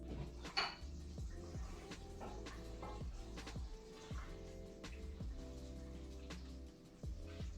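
A metal lid clanks onto a pot of sweet potato and chickpea coconut curry, among several light, close metallic taps and clinks from pans and utensils in a quiet kitchen.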